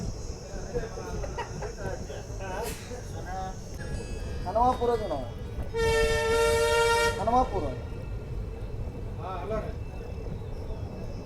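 A special inaugural train on the Kushtagi–Hubli line sounds its horn on curves, several short toots and then one long sustained blast, heard from on board over steady running rumble, with someone speaking between the horns.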